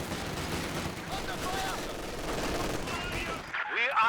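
Dense, continuous gunfire and explosions roar through a Company of Heroes 2 battle, with heavy .50 caliber machine gun fire in a sustained barrage that ends abruptly near the close.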